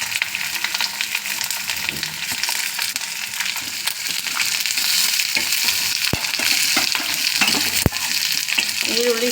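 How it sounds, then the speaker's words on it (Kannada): Onions and curry leaves fry in hot oil for Karnataka-style cumin chitranna, giving a loud, dense, continuous sizzle with occasional sharp scrapes of a spoon stirring, close up and with no speech. "ಕರಿಬೇವು ಸ್ವಲ್ಪ ಗರಿ ಆದಮೇಲೆ ಈರುಳ್ಳಿ ಹಾಕ್ಕೊಬೋಣ."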